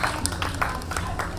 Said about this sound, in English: very small applause is happening